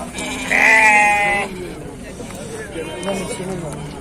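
A sheep bleats loudly and close at a livestock market in Füzuli, followed by fainter bleats and a low murmur of people talking in the background.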